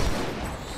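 Gunfire in the video game Halo 2, a short dense burst of rapid shots, loud and close.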